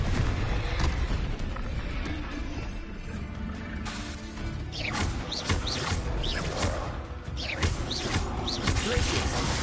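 Repeated Confringo fire spell blasts in Hogwarts Legacy thud and rumble amid game sounds, with several short whooshing bursts and crackles spread across a busy, noisy mix.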